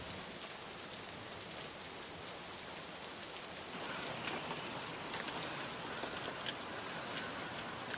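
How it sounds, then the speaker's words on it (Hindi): Heavy rain pours down on a riverside campsite in a steady, dense hiss that grows slightly louder midway, with no voices. "बाकी बारिश काफी तेज हो रही है यार।"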